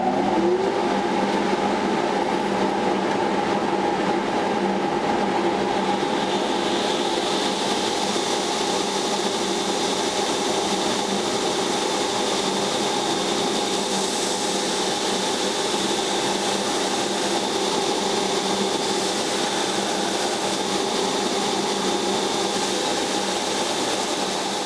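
A Harbor Freight dust collector runs steadily in a knife-making blade shop while a blade is rough ground, a loud continuous motor drone with a whining tone throughout.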